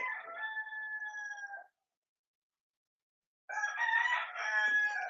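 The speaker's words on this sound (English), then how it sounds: "Oh, I want to strangle those chickens." Chickens with a rooster crowing nearby, a loud harmonic crow lasting about a second and a half, then silence for almost two seconds before another burst of overlapping crowing and clucking.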